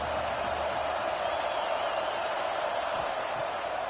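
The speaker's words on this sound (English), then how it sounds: "This crowd bringing the energy and noise early." Stadium crowd noise from the College Football 26 video game forms a steady, dense roar, continuous and moderately loud, with a commentator talking over it.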